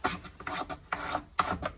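Wood being scraped by hand into tinder for lighting a fire with a fire piston: several close, rhythmic rasping strokes, each a short burst of harsh friction with brief gaps between.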